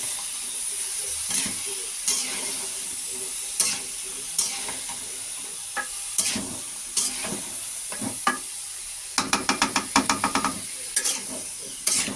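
Flat beans (shim) frying in a pan with onion and spice paste, a steady close sizzle punctuated by repeated scrapes and clinks of stirring, with a quick flurry of taps near the end.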